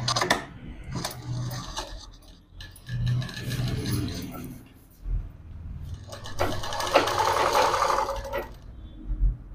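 A sewing machine stitches a net-and-border hand design in bursts, its rapid mechanical whirr starting and stopping amid handling clatter while a person talks.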